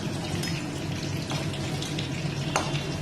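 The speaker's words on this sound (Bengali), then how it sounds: "দেখুন আলুটাও ভাজা হয়ে যাচ্ছে" Potato pieces frying in oil in a pan, a continuous close sizzle with light bubbling and a few sharper crackles, no voices.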